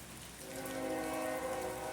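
Train horn sounding in rainy Fullerton, California: a faint, steady tonal blare layered over the hiss of falling rain, heard at a distance for about two seconds.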